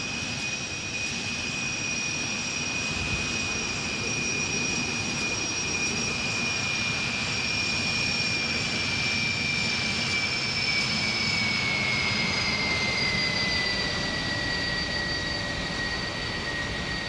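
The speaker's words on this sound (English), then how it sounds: "I think it's time for a little flyby here." Steady, loud jet engine roar from an Airbus Beluga XL making a flyby in a flight simulator, a broad continuous rumble with a high whine that slowly drops in pitch as it passes, with no talking.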